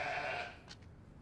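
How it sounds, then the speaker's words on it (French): A single sheep bleats briefly and faintly, a wavering nasal cry that fades out quickly into quiet background. "Je rêve ou ce sont des moutons?"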